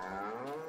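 Cattle in the Farming Simulator 22 video game give a single drawn-out, close moo that is loud and alone, with no talking.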